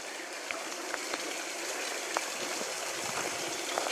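Water trickling down a rock face beside a cycling route near the Fühlbecke reservoir, a soft steady babble with faint drip-like ticks, quiet and continuous.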